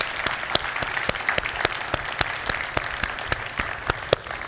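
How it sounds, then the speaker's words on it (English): An audience at a plenary session on sustainable fisheries applauds the panel speakers, producing steady, dense clapping from a sizable crowd throughout, with no talk over it. "please join me in a round of applause in thanking the speakers on this panel"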